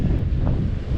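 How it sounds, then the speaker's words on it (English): Wind buffets a microphone at the waterside on a cold January bass fishing outing with lures, a loud, continuous low rumble and flutter filling the whole moment. "It's windy, it's hard to do it in these conditions."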